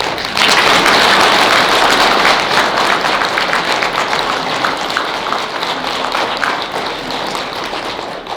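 Warm, sustained applause from an elderly audience at a Sakhalin community evening in Daegu, a dense crowd of hands clapping steadily for the full stretch without pause.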